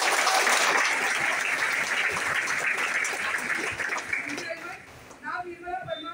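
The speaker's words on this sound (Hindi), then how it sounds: "जरा जोरदार तालियां हो जाए" A crowd at a stage event claps loudly and continuously, the dense applause gradually thinning and fading, with a voice speaking over it near the end.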